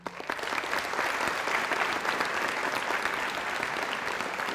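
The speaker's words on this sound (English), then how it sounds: "please give a round of applause for my staff" A crowd at a firefighter academy graduation claps loudly and steadily, a dense, even roar of applause that holds for several seconds without talk.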